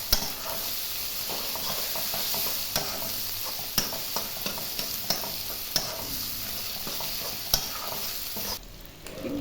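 Ivy gourd frying with chili spice and onion in a pan, stirred with a utensil: a dense continuous sizzle punctuated by sharp periodic taps and scrapes, close and loud, fading briefly at the very end.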